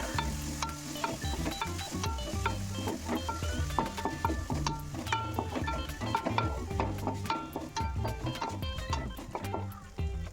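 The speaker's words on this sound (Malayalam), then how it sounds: "ചോറ് ചേർത്തിട്ട് നന്നായിട്ട് ഇളക്കി കൊടുക്കാം" Cooked matta rice and onions being stirred in a pan, with repeated scraping and clinks of a spoon against metal over a soft sizzle, in a busy irregular rhythm.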